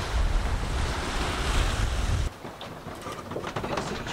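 Sea waves rush steadily against a sailboat under way off Tenerife, with strong wind buffeting the microphone; the roar drops abruptly partway through, leaving softer splashing and lapping water.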